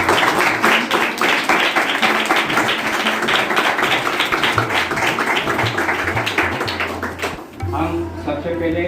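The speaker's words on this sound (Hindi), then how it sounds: "इनके सम्मान में जोरदार तालियां।" An audience at a charity institution's event applauds loudly, dense rapid clapping that carries on for several seconds and then fades, with a voice speaking over it at the end.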